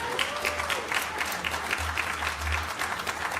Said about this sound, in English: Earned applause.